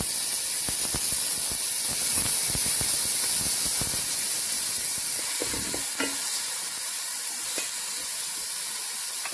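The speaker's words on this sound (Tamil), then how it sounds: "வெங்காயம் வதங்கி போச்சு" Onions fry in a pan for a traditional dry fish curry with field beans and country vegetables, a constant close sizzle and hiss broken by scattered stirring scrapes and clicks.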